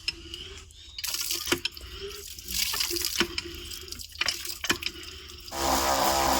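Water pours and splashes into a hand pump fitted with a 775 DC motor water pump in uneven bursts, with drips and gurgles, ending in a steady rushing fill; quiet and close.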